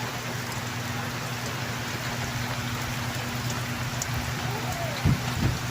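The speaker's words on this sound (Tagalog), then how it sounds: "every day is raining." Steady rain pours down outdoors on a wet day, a dense, even hiss of drops hitting surfaces, close and constant, with a couple of brief louder splashes near the end.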